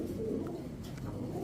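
Soft, low cooing comes from a female Andalusian German Modena pigeon, heard faintly at a pigeon market amid a murmur of background noise.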